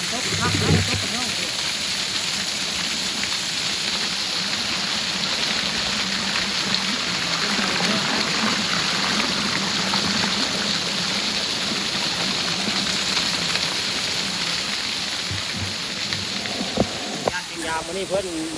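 A waterfall at Ban Na Ang roars as a steady, dense rush of falling water. It is close and loud, fills the whole stretch, and has faint clatter near the end.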